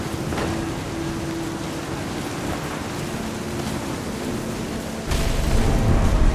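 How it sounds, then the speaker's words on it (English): A thunderstorm rumbles in the video game What Remains of Edith Finch, a loud continuous roar of rain and thunder that swells sharply near the end. "The thunder sounded much too close and full of angry power."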